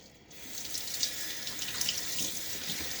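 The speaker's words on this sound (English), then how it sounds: "And now I'm going to rinse off this puck." Water runs steadily from a tap while a shaving soap puck is rinsed, a close, even splashing hiss that lasts the whole clip without speech.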